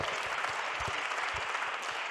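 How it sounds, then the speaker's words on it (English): Brief, steady applause from a workshop audience on international cooperation, moderately faint and continuous with a few louder individual claps near the front. "on peut l'applaudir très fort"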